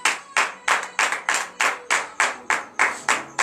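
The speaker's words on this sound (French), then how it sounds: "dans de vives acclamations à notre Seigneur Jésus." A congregation at a morning prayer service in Comè, Benin claps in unison, a close, sharp series of about thirteen even beats in a steady rhythm, with no voices.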